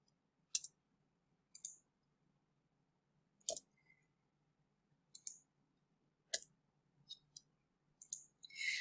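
Sharp, isolated mouse clicks while choosing the quick selection tool in Photoshop, about eight dry taps spaced irregularly against near silence, close and fairly quiet.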